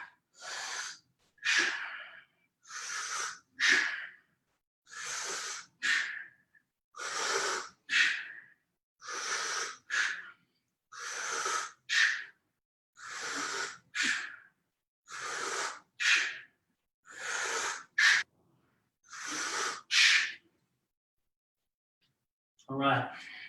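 Heavy rhythmic breathing during bodyweight exercise reps, about a dozen sharp, forceful breaths in and out, evenly spaced and close, with short silences between them.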